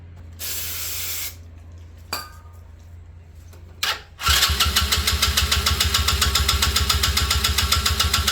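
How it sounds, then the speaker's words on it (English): A small engine that has been sitting 17,379 hours is cranked without firing: a few brief mechanical clicks and bursts, then a loud, steady rhythmic chugging of the starter turning it over with no ignition catching. "We obviously have no ignition right now because we're cranking and we are not starting."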